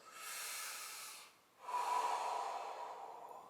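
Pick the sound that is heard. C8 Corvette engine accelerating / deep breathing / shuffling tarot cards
deep breathing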